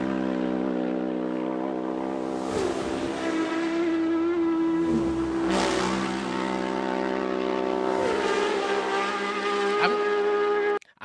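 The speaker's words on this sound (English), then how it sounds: "I'm not that big fan of that bike that does pass. It sounds like a boat" A racing motorcycle at the Isle of Man TT road race roars past close by with a steady, deep droning engine note, then a second surge as more bikes follow, loud and continuous over an open roadside setting.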